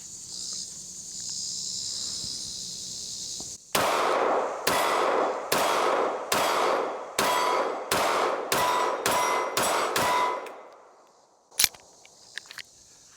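Ten sharp shots from an S&W Bodyguard 2.0 .380 pistol firing S&B XRG ammunition, loud cracks in a steady, evenly spaced string over outdoor insect buzz, followed by a single clang and faint clinks.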